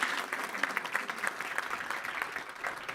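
An audience at a real estate masterclass session applauds the event sponsors, a steady wash of many hands clapping throughout at moderate distance.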